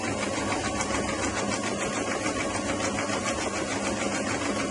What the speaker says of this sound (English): I'm just going to sew it right along where the pins are